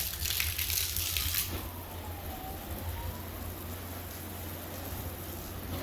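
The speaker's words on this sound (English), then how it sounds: "See that water beating off that canvas really nicely." Water from a hose spray drums steadily on the canvas of a vintage camper trailer during a waterproofing test, a continuous close hiss that is brighter at the start, with no talk.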